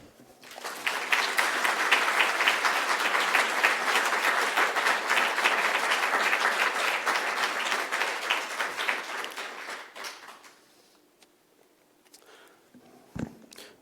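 A lecture hall audience in New York applauds to welcome speaker Paul Chaat Smith, dense sustained clapping that swells quickly, holds for about nine seconds, then fades out to quiet with a stray thump at the end.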